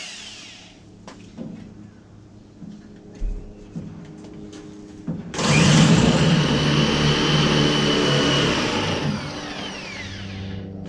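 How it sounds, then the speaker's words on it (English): A power drill drilling holes for a gate installation whines steadily and loudly for several seconds after some quieter clunks and handling noises, running continuously until the end. "drill some holes for my chem sets"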